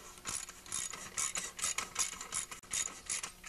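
A ratchet clicks steadily and close-up while loosening six-inch-long bolts on a blown-up 10 HP Tecumseh snowblower engine during teardown, a continuous run of rasping pawl clicks with no talk.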